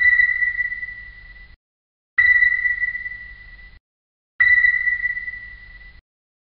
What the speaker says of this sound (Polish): To, co teraz słyszycie, to dźwięk ASDIC-a.